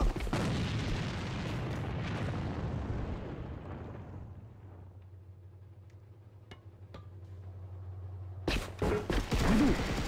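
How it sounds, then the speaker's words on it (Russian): A grenade explodes in the shooter Blackscent, a huge roaring blast that slowly rumbles and fades to a low hum, followed by a few scattered shots and then a loud clattering burst of gunfire. "Бросаю гранату!"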